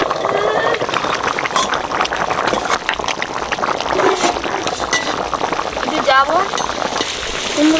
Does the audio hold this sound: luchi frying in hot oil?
yes